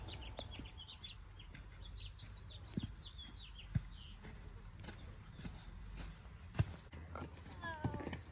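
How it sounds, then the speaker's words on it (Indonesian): Birds chirp and twitter on a desert canyon trail lined with palms, scattered light calls over outdoor ambience with occasional footsteps or knocks and people talking faintly. "banyak kicauan burung-burung yang menyambut kedatangan kita"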